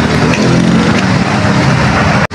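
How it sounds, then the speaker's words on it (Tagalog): Heavy road traffic with many vehicles including trucks, a loud continuous rumbling roar of engines close by that cuts off abruptly near the end. "dahil maraming sasakyan dito"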